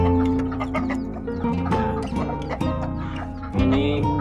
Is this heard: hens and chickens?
yes